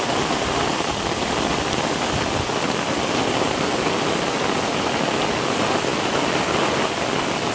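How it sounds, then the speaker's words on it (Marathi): Heavy monsoon rain pours steadily outdoors near a mangrove shore, a dense, loud, unbroken hiss that continues without pause for the whole stretch. "कसलो पाऊस इलो कडक एकदम"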